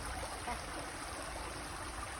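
A small mountain stream on the Appalachian Trail in Georgia trickles and babbles steadily at low volume, a soft continuous water wash with no voices.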